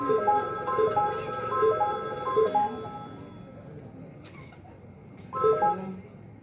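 A telephone rings in repeated bursts of a bright electronic trill during a Konkani comedy stage play, then pauses and starts one more ring near the end.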